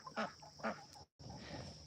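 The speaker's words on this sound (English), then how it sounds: "and the chickens are curious. Here's the roosters coming in." A small backyard flock of chickens and roosters clucks close by in short bursts, two louder calls early and softer murmuring clucks after a brief gap.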